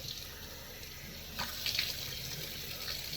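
Hot water runs from a tap into a sink while rinsing for a shave, a steady low wash with a brief louder splash partway through, close and alone without talk.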